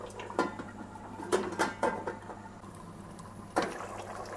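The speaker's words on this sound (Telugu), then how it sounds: "మూత పెట్టేస్తున్నాను" A metal lid goes onto a cooking pot of Telugu fish pulusu in a home kitchen, making a few close, short clinks and clanks spread across a few seconds over a low steady hum.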